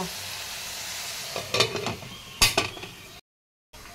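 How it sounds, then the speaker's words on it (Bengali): Cabbage frying in a pan for chow mein, a steady sizzle with two louder bursts of stirring and scraping, then a brief cut to silence before the frying resumes. "এখানে বাঁধাকপি ভাজা হচ্ছে চাউমিনে দেওয়ার জন্য।"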